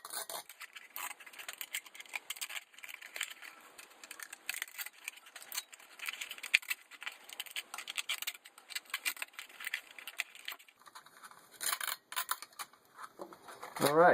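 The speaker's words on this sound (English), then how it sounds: "we need to peel the cone back and cut all the way around the spider" Close scraping and snipping from a blade cutting around the spider of a guitar speaker cone, with irregular scratchy strokes and small rattles over about fourteen seconds and no talking.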